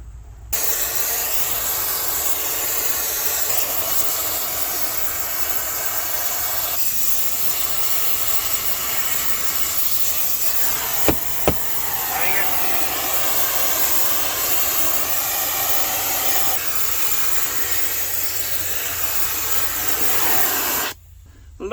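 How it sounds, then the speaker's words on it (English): A flamethrower roars continuously for about twenty seconds as it heats the center of a seized brake drum on an abandoned 1971 Ford F100, a loud steady hissing rush with one brief sharp click partway through. "I brought my flamethrower back with me today. We're gonna heat the center part up"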